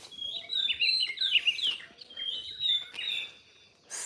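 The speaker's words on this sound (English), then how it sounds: "Somewhere there, the old birds are singing." Small birds sing at sunrise, overlapping bright chirps and warbling phrases at moderate distance, fairly quiet, with short gaps between bursts and no voices.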